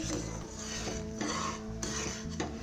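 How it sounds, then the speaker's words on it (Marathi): A spoon stirring soaked sago and mango juice cooking in a pot, a steady close-up scraping and swishing against the metal with a faint sizzle underneath, continuous and moderately quiet, with no voices. "ह्याला मध्ये मध्ये हलवत राहायचं आहे"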